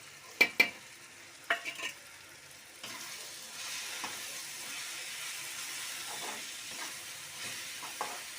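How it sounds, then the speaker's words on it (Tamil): Onion and tomato frying with turmeric and chilli powder, stirred in a pan: a few sharp clanks of spoon on metal at the start, then a steady low sizzle with occasional stir scrapes, close by and without speech. "இப்போ இந்த டைப்பில் நம்ம வந்து கொஞ்சம் மஞ்சத்தூள், மிளகாத்தூள்"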